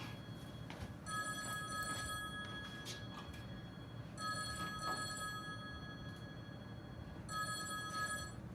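A telephone bell rings in repeated bursts about every three seconds, faint and somewhat distant, over a steady room hum with no talking.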